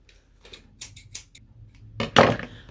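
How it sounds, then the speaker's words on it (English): Big scissors snipping through yarn, a few quick sharp cuts followed by a louder, denser snip and rustle near the end, close and crisp in a quiet room. "Okay, and I need my big chompy scissors."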